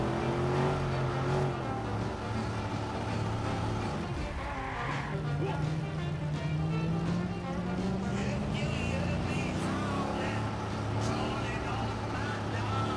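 A car drives through traffic in the video game Watch Dogs, its engine humming steadily with a rising and falling pitch and occasional tyre noise, while someone talks over it throughout.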